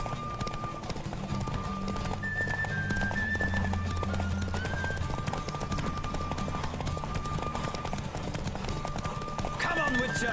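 During a horse race in The Witcher 3, rhythmic galloping hooves pound on continuously beneath layered game music, with voices and other game sounds in the mix and a swell of noise near the end.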